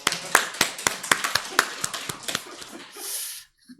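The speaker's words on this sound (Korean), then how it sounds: "박수 한번 쳐드리세요." Members of a Seventh-day Adventist church congregation in Jeju clap in a short run of distinct, sharp claps that grow sparser and fade out, with a voice heard briefly.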